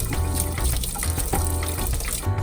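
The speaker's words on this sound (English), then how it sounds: "Make sure to wash your hands every time you cook." Water runs steadily from a kitchen tap during handwashing before cooking, a continuous broadband gush with no talk.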